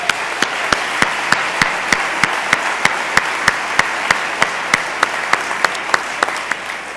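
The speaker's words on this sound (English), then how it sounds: "A round of applause for them." A conference audience applauds loudly and steadily for several seconds, with sharp, evenly spaced claps standing out above the dense wash of clapping.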